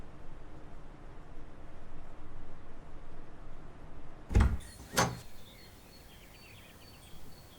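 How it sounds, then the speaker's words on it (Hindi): An apartment or house front door is opened in a TV drama scene. Two sharp clunks of latch and handle come close together after a stretch of quiet room tone, followed by a faint hiss. "मैं दरवाजा खोलती हूँ।"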